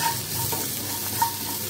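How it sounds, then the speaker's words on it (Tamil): Onions sauté in a little oil over a low flame, a soft steady sizzle close by with a brief stir of the utensil partway through. "இந்த மாதிரி கொஞ்சமாக எண்ணெய் ஊற்றி அடுப்பு கம்மி பண்ணிவிட்டு வதக்கணும்னா நல்லா வதக்கிறோம்."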